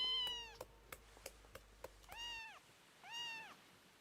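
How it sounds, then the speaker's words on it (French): A domestic cat meows three times, drawn-out rising-falling calls spaced about a second apart, close and clear, with a few faint clicks in between and no talking. "Oh, c'est mon chat."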